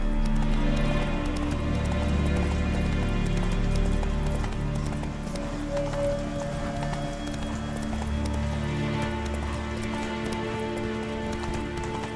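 Roach, a horse in The Witcher 3: Wild Hunt, gallops with a rhythmic, continuous clip-clop of hooves at close range, with no voices.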